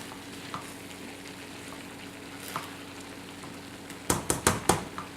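Butternut squash filling sizzles softly in a pan under a constant low frying hiss, then a spoon stirs it, making several quick scraping knocks against the pan near the end.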